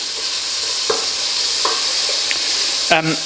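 Green chili goes into a pan of frying onion and mustard seed, bringing a constant hissing sizzle with a few light spoon taps and one clearer clink near the end, and no talk.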